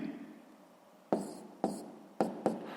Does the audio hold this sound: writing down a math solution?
yes